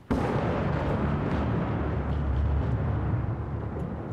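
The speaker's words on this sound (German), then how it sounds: "Das war ein Donner." Thunder in the horror video game Layers of Fear, a sudden deep rumbling crash that rolls on loudly for several seconds.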